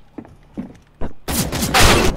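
Gunfire in a Counter-Strike style shooter game: a few soft muffled shots early, then a loud sustained burst of rapid fire filling the last second, close and harsh.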